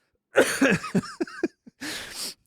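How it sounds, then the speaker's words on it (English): A person clears their throat with a few rough, gravelly coughs, close and loud, followed by a short breathy exhale. "let me clear my throat"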